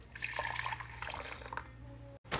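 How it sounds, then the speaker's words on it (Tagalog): Soy milk, 400 ml, poured for making taho, giving a soft continuous liquid trickle and splash that runs for about two seconds before a short break. "Ibuhos mo na yung 400 ml mong soya."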